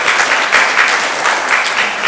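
An audience breaks into loud, dense applause, many hands clapping together in a steady burst that holds at an even level for the whole short stretch with no voices on top.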